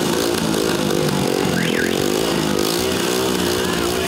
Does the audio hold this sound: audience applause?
no